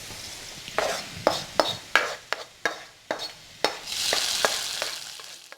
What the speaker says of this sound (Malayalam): മുളക് പൊടി ചേർത്ത് ഇളക്കിയിട്ട് അത് കറിയിലേക്ക് ഒഴിച്ചു കൊടുക്കാം.